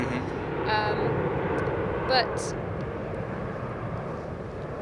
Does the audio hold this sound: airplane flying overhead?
yes